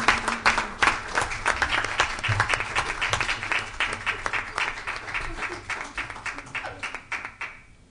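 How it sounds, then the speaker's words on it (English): Audience at a City of Millville community event applauding, dense close hand clapping from a crowd that stays loud for several seconds and then begins to fade. "give them a round of applause"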